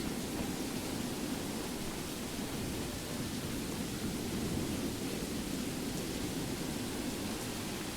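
A thunderstorm in the video game Skyrim: steady, dense rain-like noise with a low rumble that holds evenly throughout, with no speech.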